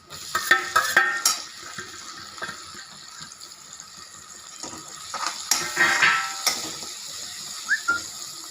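Chopped tomatoes fry in a pan for chhole masala, stirred with a utensil that gives intermittent scraping and clattering strokes over a soft, steady sizzle. No one speaks.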